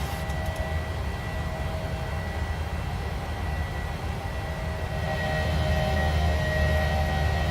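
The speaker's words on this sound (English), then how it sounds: "Sounds like climb power's in." Jet engines of a PMDG 900 airliner in a flight simulator spooling to climb power, a steady loud roar with tonal whine that swells and brightens toward the end, with no talking.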